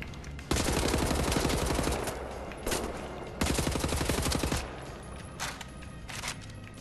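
Rapid bursts of automatic gunfire in Wolfenstein: The New Order rattle in dense volleys during a castle assault, separated by short lulls, loud and close, with scattered single shots toward the end.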